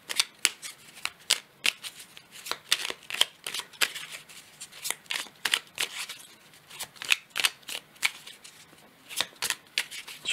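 Oracle cards being shuffled by hand, a long run of quick, crisp riffling flicks in uneven bursts, close and fairly loud, with no talking.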